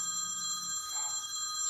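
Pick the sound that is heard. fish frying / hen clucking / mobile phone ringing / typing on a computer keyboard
mobile phone ringing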